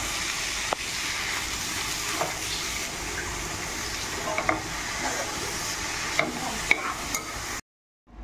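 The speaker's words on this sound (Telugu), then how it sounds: "చింతపండు గుజ్జు చేసుకుని బాగా ఒకసారి కలపండి" Tamarind pulp being stirred into a jackfruit curry (panasa pottu kura) in a pan, a steady wet sizzle with soft scraping strokes and occasional clinks, continuous and close, ending abruptly in silence.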